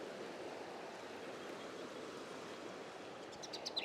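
A nearby stream flows in an outdoor woodland setting, giving a steady, broadband rushing wash with no breaks, and a few faint bird chirps come in near the end.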